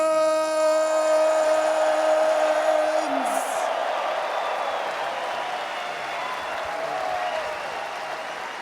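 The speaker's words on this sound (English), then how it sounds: "make one more round of applause for your TI 14 champions" An arena crowd applauds and cheers loudly for TI 14 champions Team Falcons at The International 14 in 2025, first over sustained musical tones that cut off after about three seconds, then a dense, steady roar of clapping.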